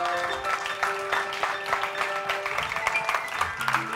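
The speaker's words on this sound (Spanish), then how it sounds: "A todos ellos vamos a agradecerles que hayan venido aquí con un fuertísimo aplauso." An audience at a film festival event applauds with dense, continuous clapping for a few seconds, fairly close and even throughout.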